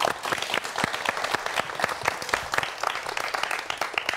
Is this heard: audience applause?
yes